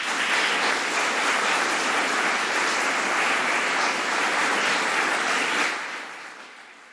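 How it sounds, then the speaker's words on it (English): Sustained applause from an audience at a fire district board meeting, steady and fairly loud for nearly six seconds before tapering off to quiet. "Let the record show that the loudest and longest applause was for the three gentlemen who spoke together."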